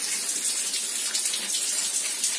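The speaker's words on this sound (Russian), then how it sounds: "Вот это у нас вот так вот течет на душ." Water pours steadily from an old, worn shower in a guesthouse room, a continuous hissing rush that stays close and loud throughout with no voices over it.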